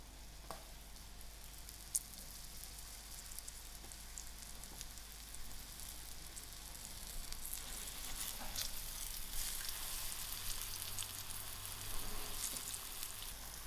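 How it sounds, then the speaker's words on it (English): Brinjal slices frying in a frying pan, a soft steady sizzle and crackle of oil that grows slightly busier over time, with a few faint clicks and no talk. "And put it in the frying pan to fry a little."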